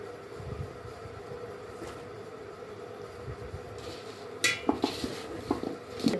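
Mango pickle being mixed by hand in a vessel, with a steady low background hum and a few sharp clinks and scrapes of utensils against the container near the end.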